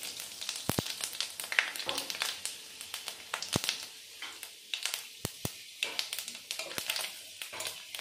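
Panch phoron spices crackling in hot oil in a village kitchen, with sharp scattered pops over a faint steady sizzle and the occasional clink of a utensil.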